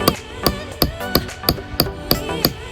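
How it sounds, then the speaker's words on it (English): A hammock hook is hammered into a tree trunk outdoors in Hawaii with nine or ten sharp, ringing metallic blows at a steady, quick rhythm, loud and close. "So he's gonna hammer right there,"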